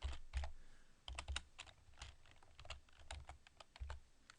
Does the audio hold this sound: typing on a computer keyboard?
yes